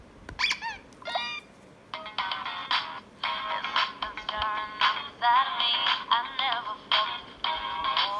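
A small Trolls sing-along toy microphone plays a tinny, bright electronic tune with chirpy, warbling tones in short bursts, fairly quiet and slightly distorted.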